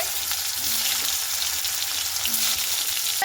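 Freshly cut, washed potato pieces frying in hot oil, a dense, close, steady sizzle that holds evenly for a few seconds with faint stirring clicks and no voices.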